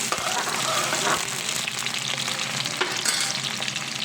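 Chopped onions fry in hot oil for a fish curry, giving a loud, dense, close sizzle with a few stirring knocks, steady from start to end.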